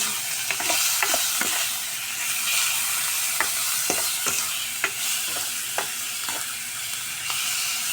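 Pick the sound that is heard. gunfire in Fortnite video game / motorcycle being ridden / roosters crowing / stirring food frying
stirring food frying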